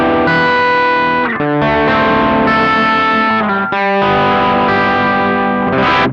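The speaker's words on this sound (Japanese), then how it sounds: "しっかり OD3 の音っていう特徴的な音だと思います" Electric guitar played through a BOSS OD-3 overdrive pedal: loud, sustained distorted chords and notes ring out continuously, with brief breaks between changes and no talking.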